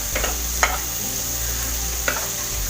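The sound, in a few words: frying chopped tomatoes for chicken masala in a pan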